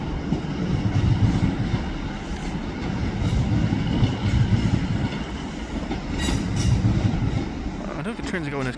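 A train rolls across a viaduct at Stockport with a continuous rumbling clatter of wheels on rails, fairly steady, with faint squeals and a voice near the end.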